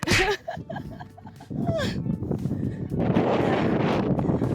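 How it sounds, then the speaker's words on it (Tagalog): Loud wind buffets the microphone in a steady roar on Mount Talamitam in Nasugbu, Batangas, with brief voices and rustling early on before the gusting takes over. "Sobrang hangin."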